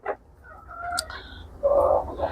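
A rooster and hens at a small egg-laying poultry farm give short clucks and a brief crowing call, fairly close and clear over a quiet background, with no talking.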